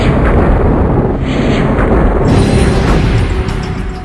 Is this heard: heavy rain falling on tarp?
no